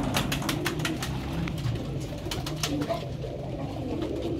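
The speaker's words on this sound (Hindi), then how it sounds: "ये आप देख रहे हैं जेन्युइन हालत में फ़कीर गुल कबूतर अब्दुल्ला भट्ट ऑफ सियालकोट की छत से।" Faqir Gul pigeons coo softly and repeatedly close by on a rooftop in Sialkot, with a few quick flutters of wings, over a steady outdoor background.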